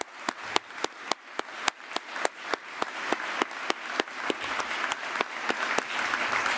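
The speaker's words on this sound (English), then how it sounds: "Ladies and gentlemen, please applaud the new fellows of the Academy of Arts and Humanities" Audience at an academy induction ceremony for new fellows applauding, sharp individual claps standing out in a steady rhythm over a building wash of applause.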